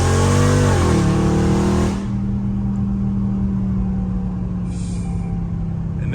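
Dodge Scat Pack V8 launching on bald tires, a loud close engine roar that rises in pitch under hard revving for two seconds, then settles into a lower steady drone with a brief hiss partway through.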